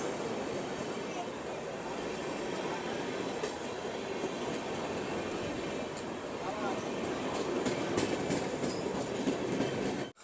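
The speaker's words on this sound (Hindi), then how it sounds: "पहले ट्रेन आ जाती है उसके बाद मैं आपको दिखाता हूँ। और इसमें तुगलकाबाद का WAP-7 लोकोमोटिव लगा हुआ है।" Passenger train hauled by a Tughlakabad-based WAP-7 electric locomotive rolling into an Indian station, a steady loud rumble of wheels and coaches with faint clatter throughout, swelling slightly near the end.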